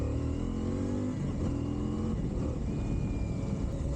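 A CF Moto IBEX 450 motorcycle engine drones steadily while riding off-road, a loud continuous mid-pitched hum with slight rises in revs and wind noise, no voices.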